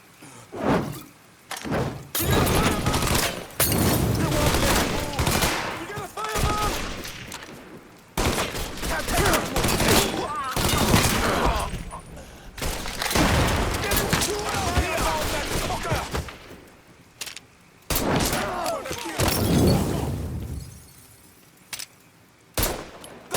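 Gunfire from the video game Mafia III: loud, dense bursts of automatic and single shots with heavy impacts, nearly continuous through the clip with brief lulls, close and dominant over any background.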